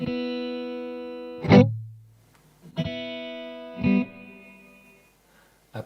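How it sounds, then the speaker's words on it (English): Electric guitar with a reverb effect: three clean plucked notes, each ringing out with a smeared reverberant tail, moderately loud and heard alone with no talking. "Here's my reverb."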